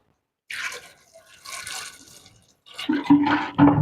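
Water pours and splashes into a pressure cooker in several short bursts while making pav bhaji, close and moderately loud, with brief pauses between pours.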